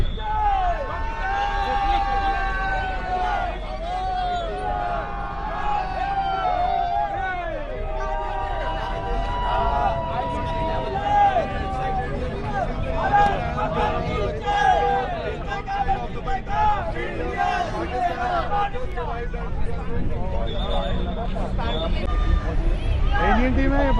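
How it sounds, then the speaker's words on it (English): Indian cricket fans in Dubai cheer for the arriving Indian team ahead of an India vs Pakistan Champions Trophy match, a steady crowd hubbub with shouts and whoops rising throughout, close voices talking over it. "there were lots of Indian fans cheering on the Indian team ahead of this encounter"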